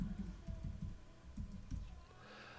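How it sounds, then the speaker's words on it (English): Password typed on a Mac computer keyboard: a quick burst of soft, close key clicks in uneven clusters, quiet and without talk. "we'll type in our password"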